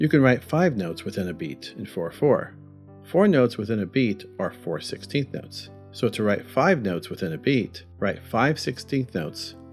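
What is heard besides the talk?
No distinct noise like a dog, phone or traffic.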